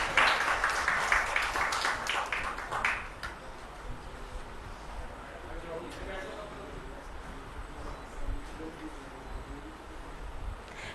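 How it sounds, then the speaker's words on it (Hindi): An audience at a ceremony in Dehradun applauds a student coming onto the stage to receive low-vision glasses from the President. A burst of clapping lasts about three seconds, then fades as a voice talks over a quiet hall. "जोरदार तालियों से राज का मंच पर स्वागत करें।"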